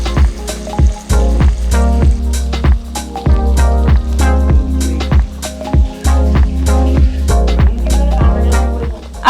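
Green chilies fry in hot oil in a pan alongside shallots and curry leaves for a spicy dried-fish curry, giving a loud, close, rhythmic crackle with repeated sharp clatters of stirring.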